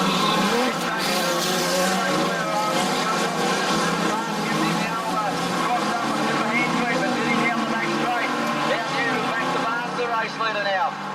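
Street stock race cars at Gunnedah Speedway during a NSW title feature roar continuously, engines droning and revving as the pack runs the main straight, with loud commentary over the top.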